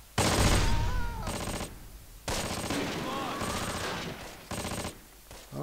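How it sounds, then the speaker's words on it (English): In the Close Combat war game, gunfire and shelling arrive in dense bursts of roughly a second or two, separated by brief gaps. The bursts are loud and rattling, and they carry a few whistling streaks. "they're using artillery on me"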